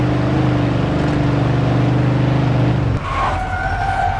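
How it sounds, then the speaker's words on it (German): A car revving hard in Mafia 2, its loud engine drone held steady and close before the pitch drops and shifts near the end, with no voices over it. "Ich habe ja jetzt richtig Gas gegeben."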